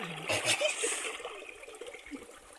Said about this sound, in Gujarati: ડુંગરામાંથી પાણી આવે છે